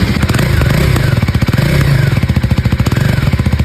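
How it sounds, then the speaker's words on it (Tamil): Exhaust note of a KTM Adventure 390 X Plus motorcycle idling and revving, a steady loud close-up thrum with rapid firing pulses throughout. "இப்போ வாங்க அப்படியே எக்ஸாஸ்ட் நோட்டை கேட்போம்."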